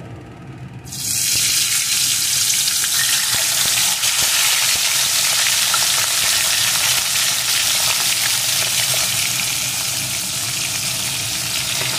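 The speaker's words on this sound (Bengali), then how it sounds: "এখন আমি ওই লবণ হলুদ মাখানো পমফ্রেট মাছগুলোকে আস্তে আস্তে দিয়ে ভেজে নেব।" Pomfret fish coated in salt and turmeric hit hot mustard oil and burst into a loud, steady frying sizzle after a brief quiet start, hissing evenly through to the end.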